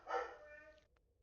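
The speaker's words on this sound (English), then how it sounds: "Sorry if you hear my dog in the background." A dog barks once at someone at the front door, a single sharp indoor bark heard faintly from another room, followed by a brief quieter trailing sound.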